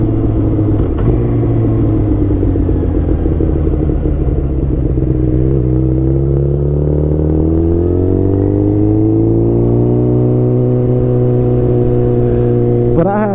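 A 2007 Suzuki GSX-R 600 motorcycle engine runs steadily up close, a loud continuous rumble that rises in pitch partway through as it revs, with no one speaking.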